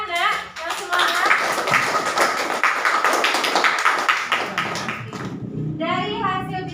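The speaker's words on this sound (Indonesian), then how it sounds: "Beri tepuk tangan ya, yang semangat." A classroom full of people clapping steadily for several seconds, dense and close, fading out as a voice begins speaking at the end.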